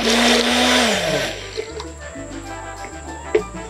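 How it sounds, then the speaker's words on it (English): A blender whirs loudly at first while blending garlic with a little oil and salt to make a garlic oil, its motor pitch dropping and fading after about a second, followed by quieter kitchen clatter and a sharp knock. "This will help me to blend the garlic first."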